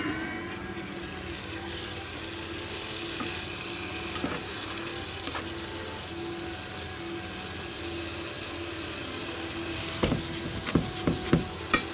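Brioche dough is mixed with oil, making soft, faint squishing and slapping under a steady background hum, with a few sharp taps near the end.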